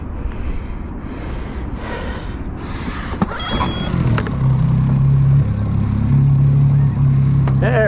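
A boat's outboard motor is pull-started with a few rasping cord pulls, then catches and settles into a steady, close droning idle.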